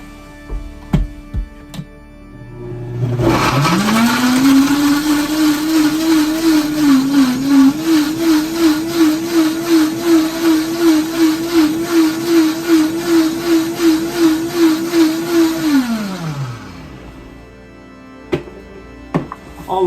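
An electric blender whirs up and runs steadily on chopped seeds with a little water, loud and close with a pulsing churn for about thirteen seconds before winding down and stopping.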